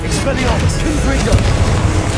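Spell blast from Hogwarts Legacy, the Confringo fire spell cast in combat during Percival Rackham's First Trial, rumbling as a dense, continuous low boom with repeated bursts over busy game noise.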